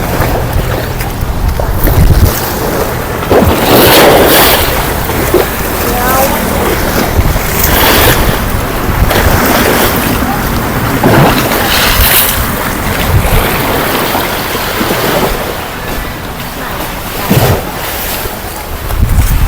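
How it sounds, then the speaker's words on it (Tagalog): Big ocean waves surge and wash continuously at Vima Beach Resort in Catmon, Cebu, a steady loud roar mixed with gusty wind noise buffeting the microphone, with occasional talk underneath. "dako kayo ang dagat karon"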